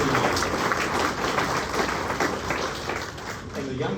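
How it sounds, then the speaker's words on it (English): Steady, dense applause fills a community group's annual meeting about saving Medina Lake, holding at an even level throughout with a murmur of voices mixed in. "give them another round of applause"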